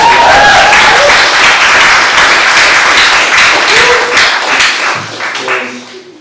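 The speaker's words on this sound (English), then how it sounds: "give it a big round of applause" A crowd gives a loud, sustained round of applause for a poet at a mental health and World Homeless Day event, dense clapping that holds for several seconds before tapering off, with a voice and brief cheering near the end.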